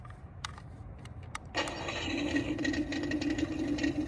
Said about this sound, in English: I am going to hit the start engine button.